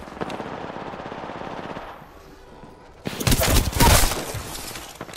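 A video game firefight crackles with bursts of gunfire, first as softer rapid shots, then after a brief lull as louder, dense automatic fire up close.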